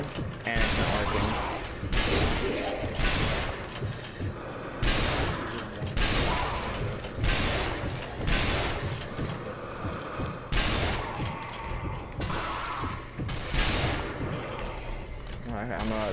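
Repeated gunfire blasts from shooting zombies in the video game Zombie Army Trilogy, loud, closely spaced shots in irregular bursts throughout, with a person talking over the action.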